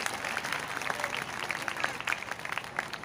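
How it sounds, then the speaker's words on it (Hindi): A congregation at a Catholic church holy mass and pilgrimage applauds the bishop, a soft, somewhat distant wash of many hands clapping steadily throughout. "तो मैं आप सबकी भरपूर तालियों में बिशप जी को"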